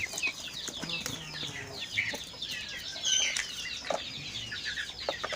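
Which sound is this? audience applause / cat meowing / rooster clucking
rooster clucking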